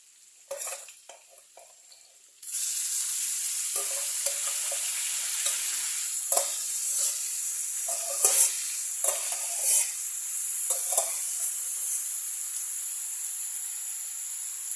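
Wood ear mushrooms and baby corn stir-fried with minced pork, a loud sudden sizzle that keeps hissing steadily, with repeated scrapes and taps of the spatula, close up.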